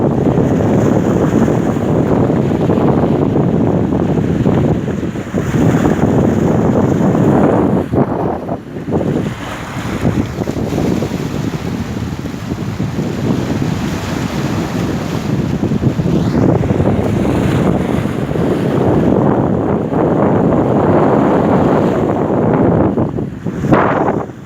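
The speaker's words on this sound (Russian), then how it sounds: "Сейчас это ветер низовка называется" Strong shore wind buffets the microphone over a continuous roar of waves and water, a dense, unbroken rush with no voices.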